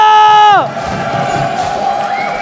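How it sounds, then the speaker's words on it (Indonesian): Arena crowd roars and cheers at an MPL Indonesia Season 12 Mobile Legends esports match, a loud sustained swell of voices rising after a brief descending tone and continuing steadily to the end. "APL Arena, mana tepuk tangannya?"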